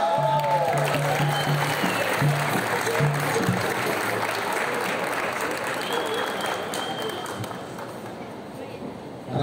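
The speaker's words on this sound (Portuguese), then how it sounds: "Biquinho, salva de palmas!" Sustained round of applause from a crowd at a capoeira batizado and graduation ceremony, steady dense clapping across the whole stretch, easing slightly toward the end, with voices calling out underneath.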